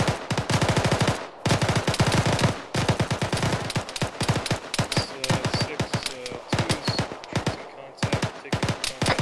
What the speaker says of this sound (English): The auto rifle, I'm gonna lay down some fire